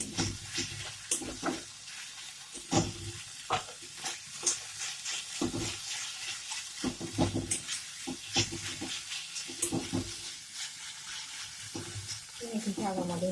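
Fenugreek greens frying Bengali style in a pan, stirred repeatedly: a continuous sizzle and hiss broken by frequent scraping, clattering spatula strokes in an irregular rhythm, close and fairly loud.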